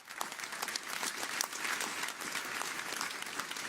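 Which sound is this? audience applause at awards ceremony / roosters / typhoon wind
audience applause at awards ceremony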